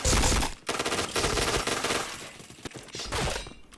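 Heavy gunfire in a mobile shooter game, loud sustained automatic bursts with short gaps, close and dominant throughout.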